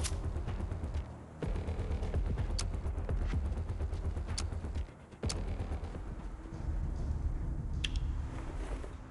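A howitzer in the video game LifeAfter fires repeatedly, sharp heavy blasts spaced a few seconds apart over a constant dense rumble of battle noise.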